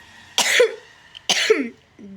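Two close, loud coughs from a person, spaced about a second apart, each a sharp burst with a short throaty tail, followed by a brief vocal sound.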